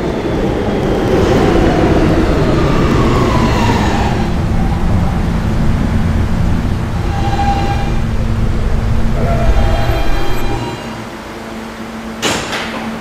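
A Roblox subway train rumbles steadily along with a rolling low drone, tonal whines rising and fading, then the noise drops as it slows, followed by a sharp click.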